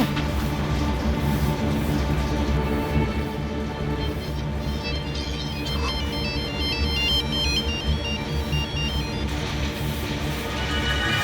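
A telephone rings continuously with an electronic ringtone, steady and fairly loud, over a dense background with no talking.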